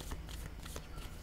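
Tarot cards are shuffled close up in a quick, dense riffle of papery flutters that lasts just over a second with no voice.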